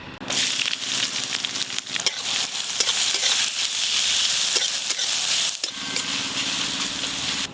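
Whole garam masala, dried chili and bay leaf sizzle in hot oil, a loud, dense crackling hiss that runs continuously up close, with brief stirring scrapes and one short dip near the end.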